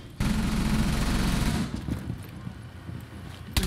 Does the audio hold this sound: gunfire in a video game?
yes